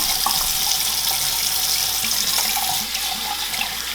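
Water runs steadily from a tap to rinse off homemade honeybee soap, a loud, continuous close splashing rush that hardly varies throughout, with no speech.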